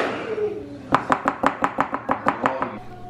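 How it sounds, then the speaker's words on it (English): A masher pressing boiled potatoes in a pot with hot milk, melted butter and sour cream, about ten rhythmic squelching thumps in a steady beat, close and fairly loud, with no voices. "I'm just mashing them up"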